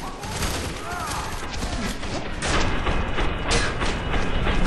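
Gunfire in the FEAR 3 video game during co-op play, a dense, continuous stream of shots and booms layered with game noise and mechanical clatter, growing louder midway.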